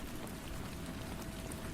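Steady rain falls for a few seconds as an even, soft patter with no pauses and no voices.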